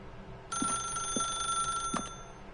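A telephone rings in The Stanley Parable, a sharp bright electronic ring that starts abruptly and sounds continuously, close and clear, for about a second and a half with no talk over it.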